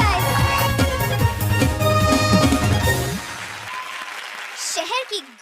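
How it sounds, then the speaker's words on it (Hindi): A comedy show audience applauds while loud music plays over the claps, then the music drops away and a voice briefly comes in at the end. "जोरदार तालियां"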